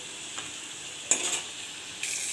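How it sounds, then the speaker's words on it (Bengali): Pointed gourd (potol) frying in a pan produces a constant soft sizzle, with a few brief scraping stirs of a utensil against the pan cutting through it. "পটলটা যে ভাজছি"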